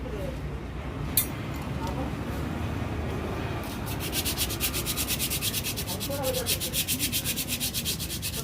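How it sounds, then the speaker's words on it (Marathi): A mechanic rubs down brake parts from a Mahindra Jeeto Plus diesel tempo, making steady scratchy abrasion that turns into a fast, rhythmic back-and-forth scraping partway through, with faint talk in the background. "हे असं घासून मिस्त्री टाकत आहेत आता"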